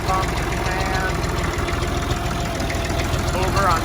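A vintage tractor engine runs through a cold start with a loud, steady rumbling idle and a rapid knocking pulse, close up, with faint voices mixed in.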